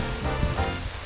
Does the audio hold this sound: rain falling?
yes